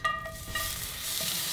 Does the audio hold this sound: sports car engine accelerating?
no